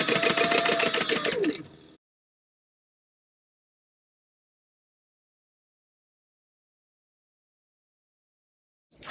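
A sewing machine runs close up for about two seconds, top stitching a bag lining with a rapid mechanical whir, then stops into near silence before starting again briefly at the very end.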